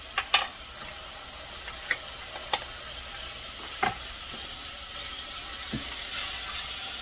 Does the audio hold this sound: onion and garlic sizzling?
yes